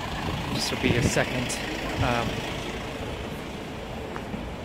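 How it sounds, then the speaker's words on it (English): A big diesel bus idles nearby outdoors, a constant low rumbling drone beneath someone talking, steady and fairly loud throughout. "there's a big diesel bus right here"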